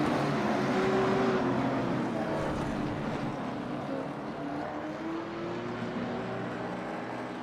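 Stock cars race at Thompson Speedway, their engines a steady loud roaring drone with rising and falling pitch as the pack circles the track, continuous throughout with no talk.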